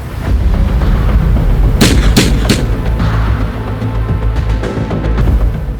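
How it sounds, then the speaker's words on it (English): Gunshots in a violent film scene where an armed man opens fire inside a house: three sharp cracks in quick succession over a loud, continuous rumbling background. "Things get violent, and Frank starts shooting."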